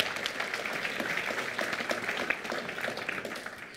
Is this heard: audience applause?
yes